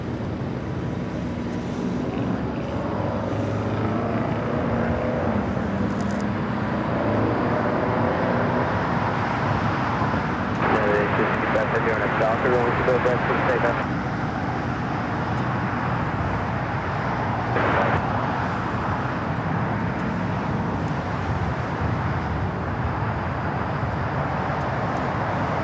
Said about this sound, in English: Singapore taking off on the north side.